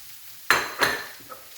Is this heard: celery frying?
yes